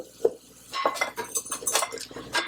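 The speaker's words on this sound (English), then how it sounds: "I'm going to add my chopped onions." Half an onion, about a cup chopped, tumbles into a soup pot where sausage is cooking, with close clinks and scrapes of a utensil against the pot and a brief clatter as the pieces land.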